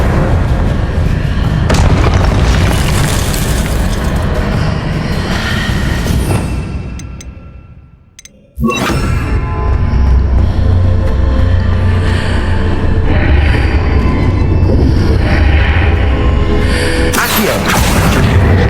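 Confringo blasting spells explode in the Hogwarts Legacy video game, a dense barrage of loud booming blasts and rumbling battle noise that drops briefly to near silence midway before surging back just as heavily.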